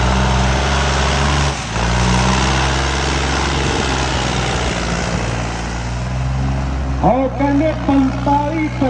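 A Farmtrac three-cylinder tractor engine runs in a steady, loud low throb, with a brief dip partway through and some rougher revving toward the end.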